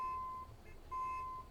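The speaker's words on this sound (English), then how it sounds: "Someone's beeping at me." A truck horn beeps twice in American Truck Simulator, two steady tones with a short gap, fairly faint against low background rumble.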